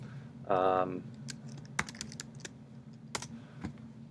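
A computer keyboard being typed on to enter a short command in a terminal, a few quick scattered keystrokes close by, with a brief spoken word near the start.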